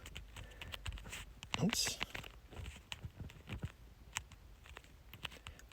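Quick, uneven keystrokes clatter on a computer keyboard while Python code is written, with a voice speaking softly over the light tapping.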